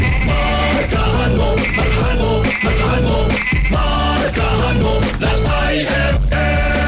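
A goat bleating in a Filipino radio ad, a loud, wavering and repeated bleat running over a music bed throughout.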